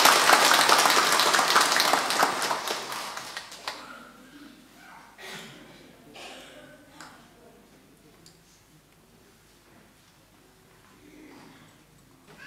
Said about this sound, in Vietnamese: Xin cộng đoàn nổ một tràng pháo tay thật nồng nhiệt để chúc mừng hai anh chị